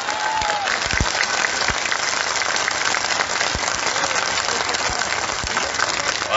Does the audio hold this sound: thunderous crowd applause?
yes